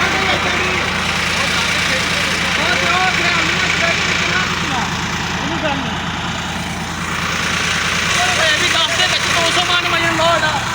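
A tractor stuck on a climb with a 200-maund load labours with a loud, continuous engine drone, the rumble holding steady throughout while voices talk over it.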